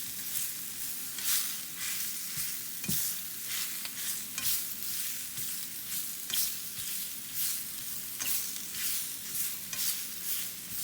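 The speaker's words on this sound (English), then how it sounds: "So once it's in your pan, just stir it around." Spinach being stirred in a frying pan as it wilts, a steady hiss of sizzling under repeated scraping strokes, close and fairly loud throughout with no talking.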